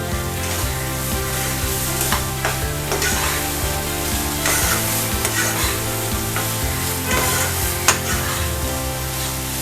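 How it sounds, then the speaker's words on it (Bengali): Fig bharta being sautéed over a full flame, steady sizzling and frying with repeated stirring scrapes in the pan, close and continuous, with music playing underneath. "আমাকে এটাকে কষতে হবে। আঁচটা কিন্তু ফুল ফ্লেমে থাকবে।"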